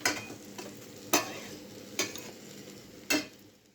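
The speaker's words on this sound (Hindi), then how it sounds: "अब इसे हम जब तक इस पे मसाला अलग ना हो जाए, यानी अच्छी तरह से तेल छोड़ने लगे, तब तक हम इसे भूंज लेंगे।" Tomato masala fries in oil and is stirred with a spoon for a hotel-style potato curry: a soft continuous sizzle broken by three sharp, distinct scrapes against the pan, close and clear, with no talking.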